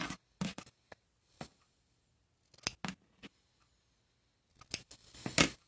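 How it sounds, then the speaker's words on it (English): Scissors cut through quilt fabric toward the corners in a series of short, crisp snips with pauses between them, close and clear in a quiet room, with no talking. "cut all the way to the corners"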